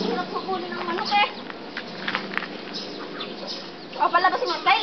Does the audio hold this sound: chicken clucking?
yes